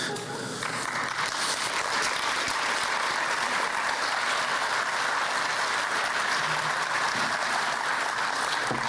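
A steady, full round of audience applause at a local history awards ceremony, continuous and even for about nine seconds, with a few voices faintly audible near the end.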